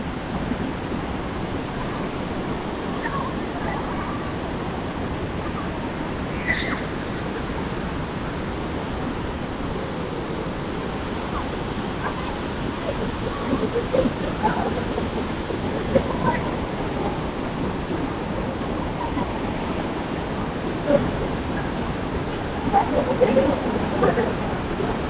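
Rushing water and waves at Vera Falls make a steady, broad roar that fills the scene, with occasional splashes and faint voices in the background.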